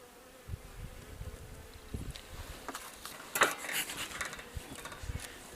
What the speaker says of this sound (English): I want to see how well the bees have climbed up into these supers that we put on 2 weeks ago